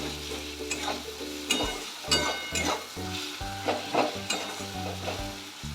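A spice paste is stir-fried with fried onion, tomato and garlic for a cauliflower dish. Sizzling and bursts of scraping and stirring come in an uneven rhythm, close up, over a low steady hum, with no voices.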